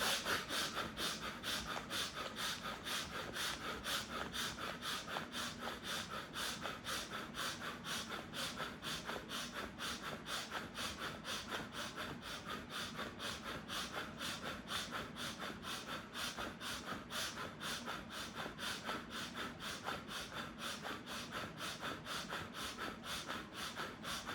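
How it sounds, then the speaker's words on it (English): Hands rubbing together in a steady, continuous rhythm alongside paced breathing during a yoga exercise, a close, soft broadband swishing that runs evenly throughout without speech. "rub sides of your hand as you breathe in and out while you're moving your belly button"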